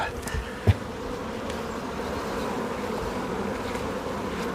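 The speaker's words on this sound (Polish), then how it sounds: "wszystko wskazuje na to, że zmęczona pszczoła" A swarm of honeybees hums in a steady, close drone that continues without a break, with a single soft knock near the start.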